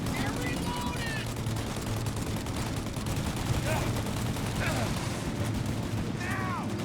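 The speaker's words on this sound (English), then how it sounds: "Shoot out your gun when there's a break in the fire!" Rapid gunfire from a shootout in the video game Mafia Definitive Edition, dense bursts of shots over a constant loud din of game sound, with voices calling out.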